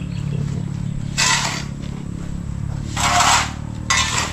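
Fertilizer solution being stirred and mixed in a container on a calamansi farm, giving steady scraping and rubbing strokes with three louder bursts of stirring over a constant background hum.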